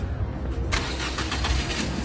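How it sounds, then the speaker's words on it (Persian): A car engine cranks and catches after an ignition fix with a card slipped under the points, a brief starter whirr then a sudden loud burst into a steady running rumble close by. "ببینید خیلی راحت ماشین روشن میشه"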